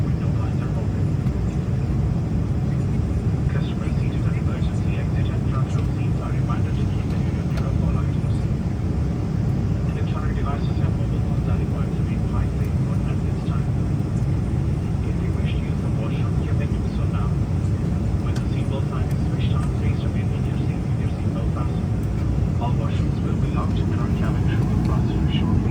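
Steady, loud low-frequency roar of a Qatar Airways airliner heard from inside the cabin as it descends toward landing, continuous throughout with someone talking over it.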